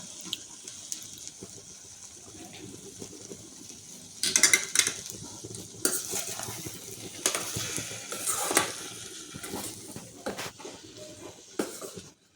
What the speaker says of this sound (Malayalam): ഇനി നന്നായി ഒന്ന് ഇളക്കുക.